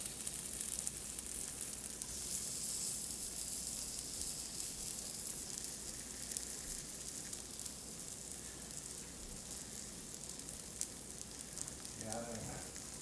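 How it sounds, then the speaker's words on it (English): Pot stickers sizzle in a frying pan in a home kitchen, a continuous close crackling hiss that holds steady throughout, with a brief voice near the end. "Oh yeah, they're sizzling."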